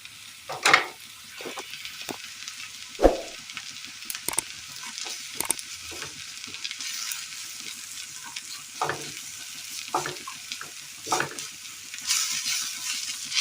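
Chicken masala spice powders, coriander, turmeric and chilli, stirred into hot oil with popping mustard seeds in a pan: a soft, close sizzle broken by sharp scrapes and clicks of a spoon against the pan, with no talking.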